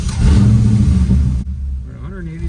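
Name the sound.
1989 Corvette engine idling after misfire fix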